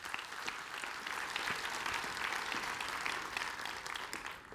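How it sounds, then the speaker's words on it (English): Applause from a business conference plenary audience for a travel network group, a dense, even wash of many hands clapping at moderate distance, sustained for several seconds before tapering slightly. "huge round of applause, Avril Hurd."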